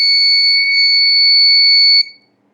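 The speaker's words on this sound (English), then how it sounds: "This is" A loud, sustained electronic tone from an Arduino active buzzer module holds steadily for about two seconds, then cuts off into silence.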